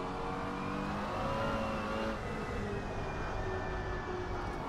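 A McLaren GT4 race car in Assetto Corsa Competizione, driving carefully on cold tyres at Spa during practice, its engine holding a steady, loud, buzzing drone with slowly shifting pitch and no voices.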